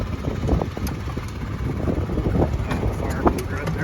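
Gusty breeze buffeting the microphone outdoors on a cold day of around 45 to 50 degrees, a steady low rumble with uneven swells throughout.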